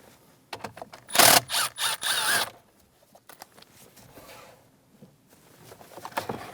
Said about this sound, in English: you're going to find another 7mm screw. Remove the bolt. And do the same thing on the other side.